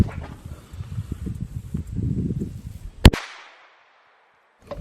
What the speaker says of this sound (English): Blew a big old chunk out of the side with that 9mm, but it's still locked.